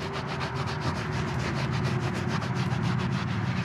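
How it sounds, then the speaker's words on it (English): Continuous rhythmic brushing strokes rub over a horse's coat during grooming, close and fairly loud, repeating in quick even passes with no pauses and no talk. "I can rub a little harder."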